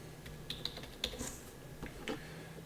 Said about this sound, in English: I'm going to type in Wildcats